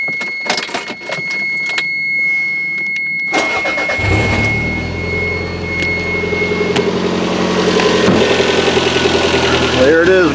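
A Toyota MR2 with a freshly installed engine and Burke exhaust cranks after a few clicks, catches and settles into a loud, raspy idle with a rhythmic pulsing through the exhaust, and a voice is heard early on.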